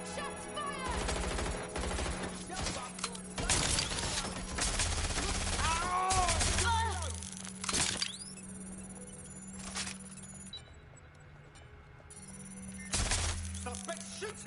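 Automatic gunfire in a Watch Dogs shootout, with dense bursts of shots and clattering impacts stacked over a steady game hum, loud and close, broken by short pauses and a final burst.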